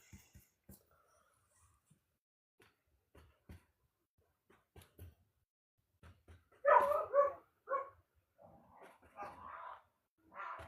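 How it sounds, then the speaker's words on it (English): Dogs bark and whimper in a home with a painter's easel, a cluster of sharp barks bursting out midway and a few quieter yelps and growls following, with faint clicks and near silence before. "Man, my dogs are so bad when I'm not watching them"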